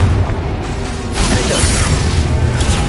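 A Confringo explosion spell from a Harry Potter video game, a loud, dense roaring blast with a deep boom and crackling rush that swells midway and sustains to the end.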